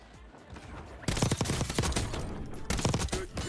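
Rapid rifle fire in the video game Warzone, an MW3 loadout gun, rattling off in two sustained close bursts over faint background ambience.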